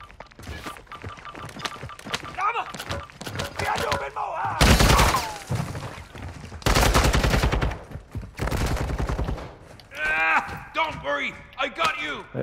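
Video game gunfire in an extraction shooter match, with rapid bursts of shots and impacts alternating with quieter gaps, close and loud, mixed with excited voices talking over the action.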